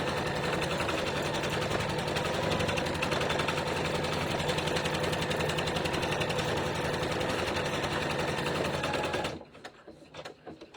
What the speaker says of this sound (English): And I'm going to just stitch a tack down stitch. And let that run.